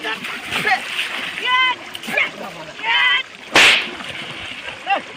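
Cartoon water splashes hit hard, several sharp splattering bursts with one loud slap near the middle, mixed in with excited voices and comic sound effects.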